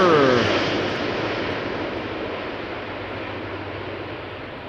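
KLM Boeing 777 jet arriving at Schiphol Airport: a broad, loud engine roar that eases off steadily as the aircraft passes and recedes.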